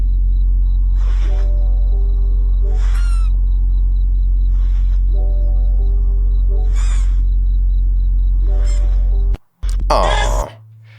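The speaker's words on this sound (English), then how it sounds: "there is a huge rumbling sub bass going throughout the entire" A deep rumbling sub bass drones continuously beneath a played meme clip, with repeated bird-like calls and tonal bursts on top, ending in a sharp loud cutoff.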